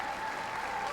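Applause from a crowd at the Royal City Curling Club during a women's curling skins game, steady dense clapping filling the whole second with no pauses.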